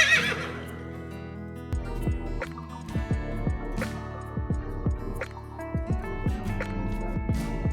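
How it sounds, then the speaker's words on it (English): A cartoon-style horse whinny opens the moment, loud and shaky, then gives way to bouncy plucked children's farm-song music with dripping, bubbly notes. "Yeehaw! It's a horse."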